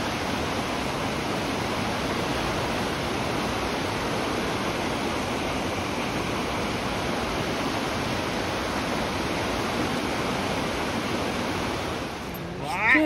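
Rushing river water beside a forest trail near Puget Sound, Seattle, a steady broadband roar that continues evenly throughout with no talk.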